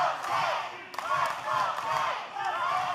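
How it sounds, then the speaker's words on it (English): A wrestling arena crowd at a live OVW United States Championship match roars and chants steadily, a dense wash of cheering and shouting voices with rhythmic swells throughout. "Crowd trying to get behind DeNiro here."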